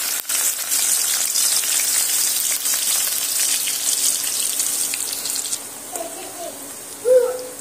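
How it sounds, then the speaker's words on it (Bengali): Chopped onions frying in hot oil, for a Bengali patol sorse dish, give off a steady, close hiss and sizzle, with a light clink near the end. "পেঁয়াজগুলো তেলের মধ্যে দিয়ে লালচে রং ধরিয়ে ভেজে নেব"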